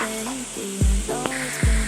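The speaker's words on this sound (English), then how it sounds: "So my first batch of chicken is in frying." Batch of chicken frying in a pan gives a continuous sizzle, with a couple of louder bursts and clunks as pieces are moved or stirred, close and fairly loud with no voices.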